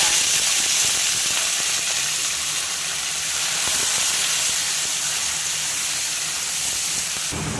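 Bottle gourd greens being stirred in hot oil tempered with dried red chillies and black cumin, giving a steady loud hiss and sizzle throughout with faint scraping underneath.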